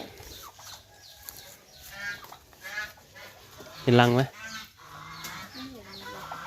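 Chickens cluck and call on an organic farm where hen and goose eggs are collected, with one loud, close squawking burst in the middle, while people talk through the rest.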